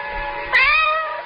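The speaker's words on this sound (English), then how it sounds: "I can make out maybe 12 cats now" A cat gives a single short, clear meow close by in the dark, with faint low rumble before it.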